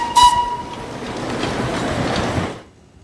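A tiny four-wheeled nineteenth-century steam locomotive gives a short, loud whistle, then rumbles and rattles steadily along the track for a couple of seconds before the sound cuts off.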